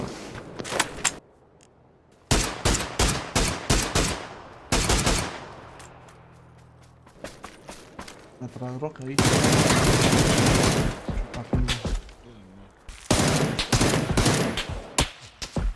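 PUBG video game gunfire, loud bursts of automatic rifle fire and single shots broken by short silences, including one long sustained volley, with faint speech in the quieter gaps.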